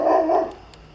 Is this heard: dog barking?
yes